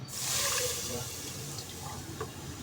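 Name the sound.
soaked mung dal with water being put into a pot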